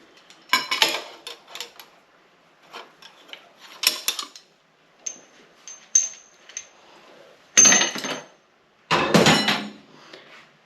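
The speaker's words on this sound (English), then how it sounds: "And we need to get the dowels out that are in the front rotor housing" Dowels are knocked and pried out of the front rotor housing during a Mazda 13B rotary engine teardown, with a series of uneven metallic clanks, scrapes and sharp clinks separated by short pauses, fairly close.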